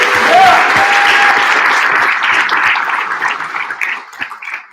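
An audience at a primary candidate forum gives loud, sustained applause that gradually thins toward the end, with a voice briefly audible over the clapping.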